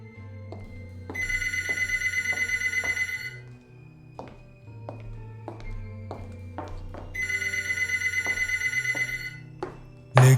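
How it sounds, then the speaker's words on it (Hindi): Phone ringing with a classic electronic bell tone in two long trilling bursts, separated by a pause. Soft music and scattered thumps play underneath, and a sharp hit comes at the end. "तभी अचानक उसके फ़ोन की घंटी बजती है"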